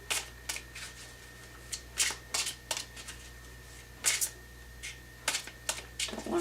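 Tarot cards are shuffled and drawn by hand in quick, irregular bursts of crisp riffling and flicking, close and fairly quiet, with no talking.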